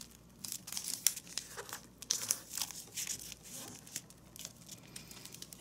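Origami paper being folded and squashed flat for a gauntlet hand piece, giving a run of close, crisp crinkling and tearing-like rustles in irregular bursts, with no talking.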